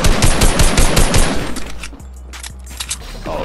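Rapid automatic gunfire in a Fortnite Battle Royale match, a loud dense burst of shots for about a second and a half, then scattered single shots and quieter game sounds.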